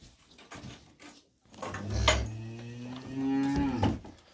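A cow being injected with Ashiver medicine on a farm lets out a loud, close, drawn-out low moo that rises in pitch, with faint clatter and a brief dog-like whimper before it and no talking.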